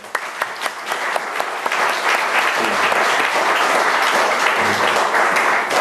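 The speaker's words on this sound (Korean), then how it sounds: "우리 격려의 박수." A church congregation claps in encouragement for its football players, a dense, steady, close round of applause with a few sharper claps at the start.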